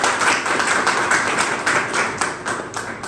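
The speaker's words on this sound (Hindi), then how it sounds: "ताली दो उसके एक बार" A crowd claps together at a spiritual gathering in a de-addiction centre, a dense, steady wash of applause held at even loudness for several seconds with no talking over it.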